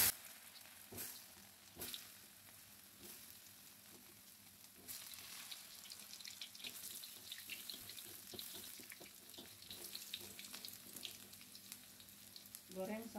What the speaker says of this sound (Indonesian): Goreng sampai berwarna kuning kecoklatan.